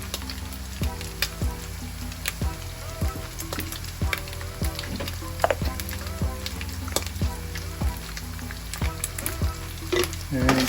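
Ground beef for lasagna frying in a pan makes a loud, continuous sizzle, with regular spatula scrapes and stirs repeating every second or so.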